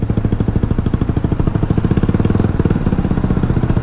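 An FKM 3GP 300cc motorcycle rides through traffic, its engine giving a loud, close, rapid pulsing beat that holds steady throughout with no voices.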